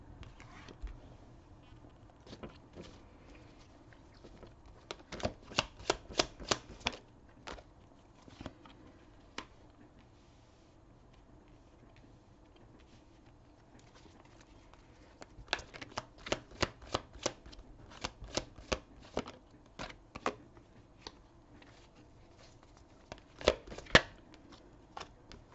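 Tarot cards are shuffled for a reading in quiet clusters of crisp riffling flicks, several bursts separated by near-silent pauses, close and soft, with no talking.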